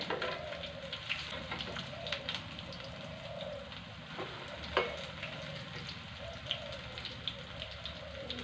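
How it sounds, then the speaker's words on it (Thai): Butterfly pea flowers coated in batter deep-frying in hot oil over medium heat, a steady bubbling sizzle with scattered sharp pops and crackles running throughout, fairly close and with no voices. "จะมาทำการทอดแ"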